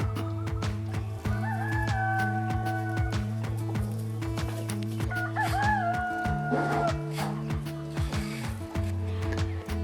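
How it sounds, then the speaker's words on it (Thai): Male roosters perched in trees in Lamphun, Thailand crow loudly in two long calls, with clucking and steady background music underneath. "ไอ้พวกนี้คือ บินเก่งมาก แล้วก็เป็นตัวผู้ทั้งหมดโดนจับมาแยกอยู่แถวนี้เพราะว่า ร้องดังเหลือเกิน"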